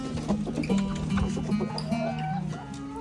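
Chickens clucking in a coop on a farm, soft overlapping clucks and calls at a moderate distance, fairly quiet throughout.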